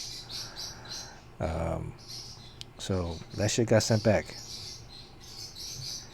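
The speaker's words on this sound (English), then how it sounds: "If you can hear in the background too, are my two birds, Beavis and Butthead." Two pet birds chirp in short tweets in the background while someone talks over them.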